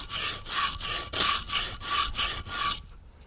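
A knife blade is drawn across a rough cinder block in about eight even, rhythmic strokes, each a loud close gritty rasp, ending with a short quiet pause.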